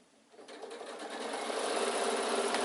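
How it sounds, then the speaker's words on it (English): A sewing machine runs steadily, stitching the seam around the last side of an insulated picnic bag, starting quietly and building to a continuous, close, even whir with no talk. "continue sewing around the last side"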